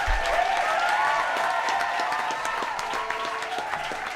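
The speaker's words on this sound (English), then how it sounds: "So throw a huge round of applause for our new friend, Craig Mack." A live podcast show audience at The Seahorse claps and cheers for a guest, a steady wash of applause at moderate level with some whistling or whoops riding above it for about four seconds.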